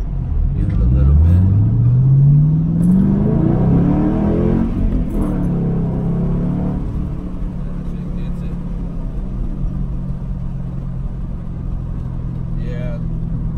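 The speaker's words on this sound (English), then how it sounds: "You can hear it a little bit better, hear the motor a little bit better." A 2005–2009 Ford Mustang GT V8 revs near a freeway, its pitch climbing sharply over a few seconds before settling back to a rumbling idle, with someone talking over it.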